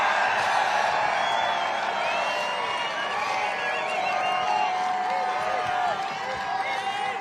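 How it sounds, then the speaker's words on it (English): Dense, loud crowd at an outdoor political rally in Freeland, Michigan, cheering, whooping and shouting continuously, with many voices overlapping and some clapping mixed into the steady roar. "this crowd is fired up"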